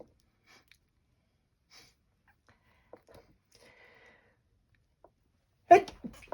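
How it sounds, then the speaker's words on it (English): Single sharp, loud human sneeze near the end after near silence with faint rustles while stitching vintage textiles. "Achoo."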